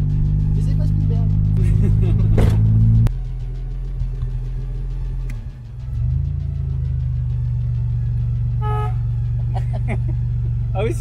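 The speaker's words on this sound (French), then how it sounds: "Ah oui, c'est quoi ce klaxon?" A stalled DeLorean DMC gives a loud, low, droning horn blast for about three seconds, followed by a rumbling idle with people talking nearby.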